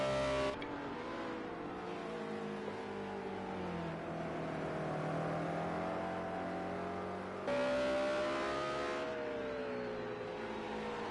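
A BMW race car in Project CARS 2 at Watkins Glen runs a warm-up lap, its engine droning steadily and rising and falling in pitch, with a sharp jump in revs partway through.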